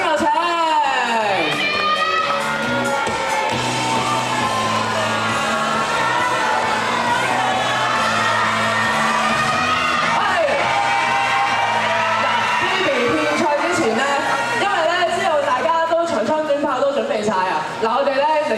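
A live crowd at a Hong Kong music showcase cheers, whoops and yells for a singer being welcomed to the stage, a loud, continuous roar of excited voices lasting throughout.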